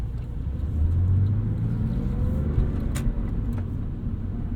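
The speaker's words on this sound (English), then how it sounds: "This is my first time driving an old 911." A 2002 Porsche 911 rumbles along from inside the cabin, a steady low engine and road drone with a brief rise in pitch, no talking.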